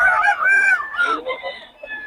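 Fighting cocks at a gamefowl market in Bocaue crow and cackle close by in a loud, overlapping burst of calls, with several birds sounding at once.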